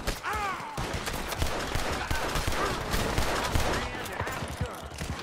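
Gunfire in the Red Dead Redemption 2 video game, a dense, continuous fusillade of overlapping shots amid hectic game noise, with shouting voices mixed in.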